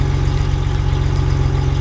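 BMW E30 engine idling steadily with a low, even pulsing rumble and a rattly mechanical texture, close and loud, with no talking.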